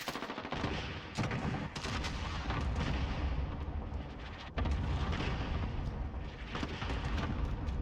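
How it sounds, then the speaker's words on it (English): A cluster strike in Modern Warfare pounds the area with a rapid, continuous barrage of heavy explosions and rumbling booms, loud and close, with sharper blasts punching through the roar and almost no speech. "Enemy cluster strike incoming."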